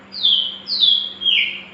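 A murai batu, or white-rumped shama, sings three loud, clear whistled phrases, each a bright sliding note with a short gap between, close to the microphone over a faint steady hum.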